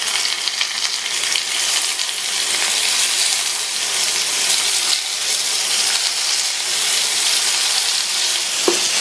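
Paniyaram batter mixture sizzles in hot oil in the wells of a paniyaram pan over low flame, a loud, continuous crackling hiss that holds steady throughout.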